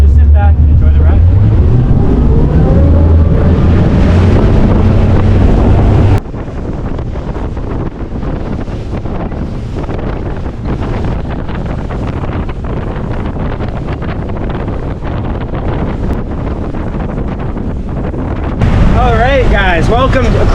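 Rigid-hulled Zodiac tour boat crossing a bay between False Creek and Howe Sound near Vancouver, with loud steady wind buffeting and engine drone throughout, a louder surge at the start and again near the end.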